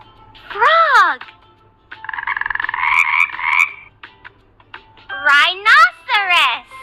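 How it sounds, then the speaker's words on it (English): A frog croaks in a few loud, distinct calls, with a short rattling trill between them, close and clear against a quiet background. "Frog."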